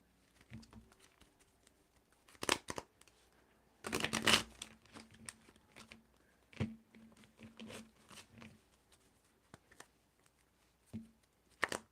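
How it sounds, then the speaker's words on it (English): Tarot cards are shuffled by hand in a series of papery riffling bursts and soft slaps, with short pauses between, close and fairly clear against a quiet room. "Another shuffle."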